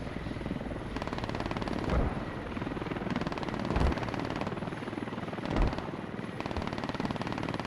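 In the Squad video game, a helicopter's thudding rotor drones on throughout while bursts of machine-gun fire crackle over it, with heavier impacts at a few moments and no talking.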